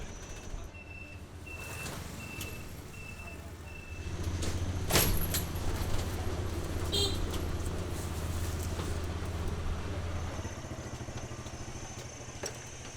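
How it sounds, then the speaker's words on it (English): Traffic jam on a Saigon street, with idling engines, a motorbike revving up and scattered beeps and clicks. The din grows louder partway through and holds under a busy street background, with no clear talk. "We got traffic jam."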